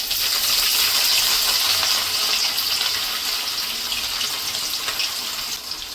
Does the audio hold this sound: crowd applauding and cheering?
no